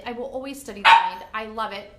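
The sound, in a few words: dog barking in the office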